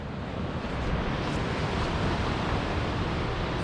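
Ocean waves roll in below coastal cliffs on the Lower Yorke Peninsula, a dense, steady wash of surf heard from above, continuous and moderately loud with faint wind, no speech.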